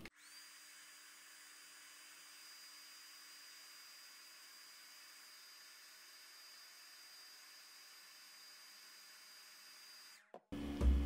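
A steady, whining rush of hot air from a hairdryer heating a sensor holds constant for about ten seconds, then cuts off abruptly, followed by a brief clatter.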